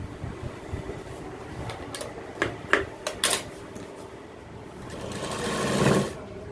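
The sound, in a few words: sewing machine stitching trouser belt loop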